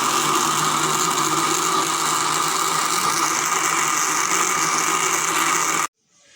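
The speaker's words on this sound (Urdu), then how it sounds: "اور اب میں نے ان سب کو گرینڈر میں گرینڈ کرنا ہے" An electric grinder blends tomatoes for a masala for siri paye, a loud, steady motor whir running continuously before cutting off abruptly near the end.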